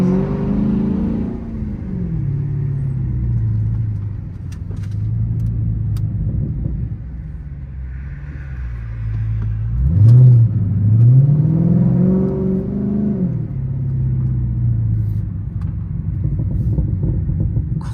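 A Chrysler 300 SRT 392 rumbles at close range, its engine revving up and down in several swells and letting out popping crackles from the exhaust.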